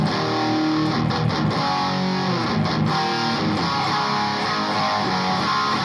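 A Joyo Bantamp amp cranked with every control at maximum drives an electric guitar into dense, heavily distorted chords that ring continuously and loudly, with a few sharp pick attacks and no voices.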